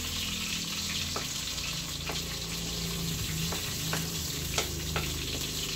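Squid sautéing in a home-kitchen pan after being simmered until its liquid dried, a steady close sizzle of frying with occasional light clicks of stirring throughout.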